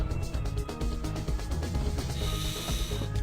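Clicking, ratcheting mechanical clatter of an MG34 machine gun grip being pulled out during disassembly in World of Guns, a dense run of close, rapid metallic clicks and rubs with no talking.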